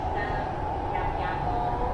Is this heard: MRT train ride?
yes